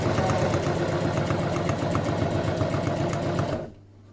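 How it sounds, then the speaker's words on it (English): A sewing machine stitches down a mend on jeans, a fast, even mechanical whirring with rapid needle ticks running loud and continuous before stopping abruptly near the end, leaving a low hum. "I'm just going to sew that down"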